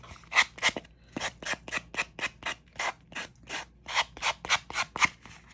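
Sandpaper is rubbed around the edges of a small handmade book in short, even rasping strokes, roughly a dozen close, distinct swipes in a steady rhythm, with no talking.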